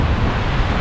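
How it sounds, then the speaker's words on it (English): Strong wind under the Mackinac Bridge buffets the microphone in a steady, loud, broadband roar, close and unbroken through the brief moment. "it's fairly windy underneath the Mackinac Bridge"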